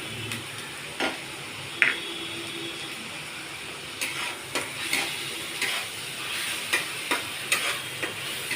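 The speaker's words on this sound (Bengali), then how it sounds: "পেঁয়াজটা একটু ভাজা ভাজা হয়ে নি।" Sliced onions frying in oil in a pan as shrimp in yogurt curry is cooked, with a steady low sizzle broken by regular scraping stirs and spatula taps against the pan, close and clear.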